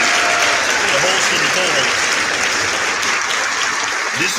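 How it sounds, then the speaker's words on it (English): A round of applause for the host, co-host and participants of a Q&A talk show, loud continuous clapping with voices and cheers mixed in throughout. "I want to give everybody that chimed in a round of applause, the host"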